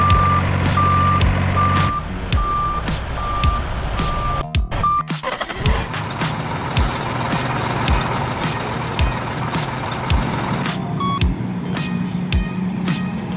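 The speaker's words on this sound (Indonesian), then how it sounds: "dump truck adalah mobil yang mempunyai dam yang besar di belakangnya" A large mining dump truck reverses with a steady, evenly spaced electronic beep over its loud, continuous diesel engine rumble, along with brief hissing and clanking bursts.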